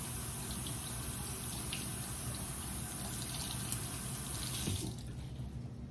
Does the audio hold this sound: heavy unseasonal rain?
no